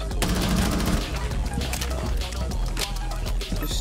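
Rapid bursts of video game gunfire, sharp repeated shots over a dense, busy background of game noise, with a voice briefly heard.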